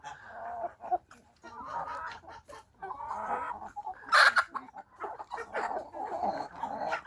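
Chickens clucking and murmuring close by in a farmyard with ducks and a goat, with scattered sharper calls and a brief loud squawk midway.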